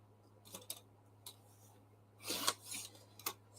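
Scissors snip through craft material in a few quick, close, quiet cuts with small clicks between them.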